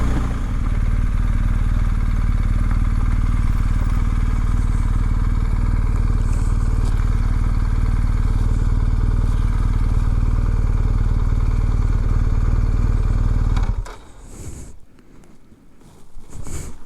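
A BMW R 1250 GS motorcycle rides over hard ground topped with loose gravel, its engine droning steadily and loud for most of the stretch before cutting away abruptly, leaving faint wind and scattered sounds.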